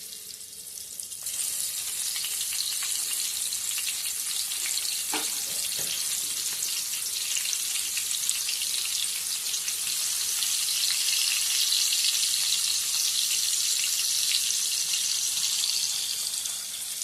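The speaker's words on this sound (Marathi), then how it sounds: "तर असे मी एक एक करून फ्राय करून घेतले" Fish frying piece by piece in a pan in a Konkan village kitchen, a loud, continuous sizzle holding steady throughout with no talking.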